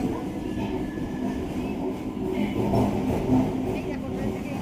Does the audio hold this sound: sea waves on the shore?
no